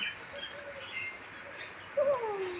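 An injured house sparrow chirps in short, thin calls over a quiet background, with a louder, sharper chirp near the end.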